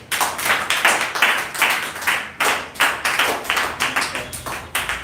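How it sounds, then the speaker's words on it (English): A small audience at a live English speech competition claps steadily for the contest participants, a fairly quiet, even patter of hand claps with no talking over it. "You can clap to all of them."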